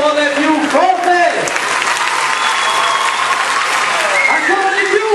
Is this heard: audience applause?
yes